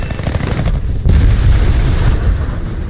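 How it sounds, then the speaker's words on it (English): Loud, continuous bursts of rapid cannon fire from an F4U-4B Corsair in War Thunder rattle with heavy low-end thumps, dense and sustained across the whole stretch, no talking. "And then the cannon rounds do their job."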